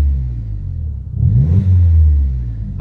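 Audi S3 8L engine given a quick rev while idling, a loud close rumble that swells and then settles back over a few seconds.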